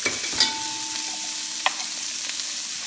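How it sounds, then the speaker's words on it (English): Chopped onions and garlic sizzling in a frying pan, a steady close hiss with a few light clicks of a utensil against the pan. "and put our chopped onions. put a little of garlic."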